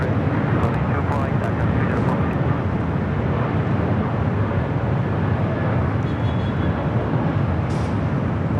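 Loud, steady roar of a jet airliner, an Airbus A380 inbound from Seoul arriving at LAX, holding constant through the whole stretch with faint voices chattering beneath it.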